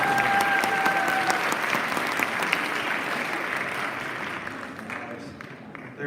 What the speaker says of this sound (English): Give a round of applause for Mr. Lothimer.